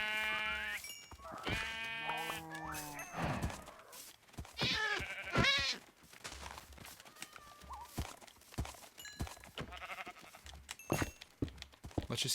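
Several blocky sheep bleats from the video game Minecraft repeat at close range, mixed with quick hoof-like clip-clop steps and soft game effects.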